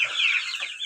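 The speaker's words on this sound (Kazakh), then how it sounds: "Бұл жерде міне қара балапандар, мынау Австралорд деген порода." Australorp chickens and chicks cluck close by in a brief, continuous flurry of high, busy calls with no talking.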